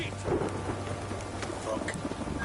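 Steady rain with a low rumble of thunder in the Witcher 3 video game, an even downpour hiss throughout at moderate loudness.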